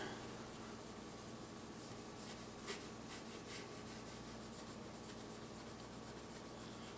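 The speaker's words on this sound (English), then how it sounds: "me sitting here scrubbing in one spot for a while" Steel wool scrubbing surface rust off the blued steel of a 17 HMR rifle, a continuous close, even rasping rub kept in one spot, with no speech.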